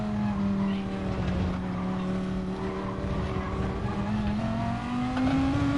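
An Audi race car in a racing video game, its engine holding a loud steady droning tone that climbs in pitch as revs build, with no talking over it.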